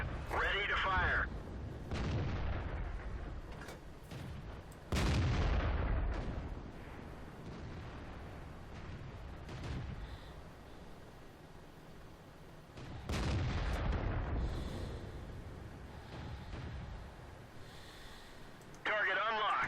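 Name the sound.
tank destroyer cannon shots in video game World of Tanks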